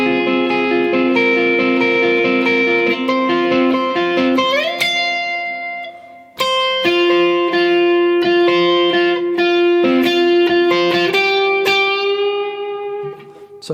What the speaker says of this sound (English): we've got the guitar solo, and it sounds like this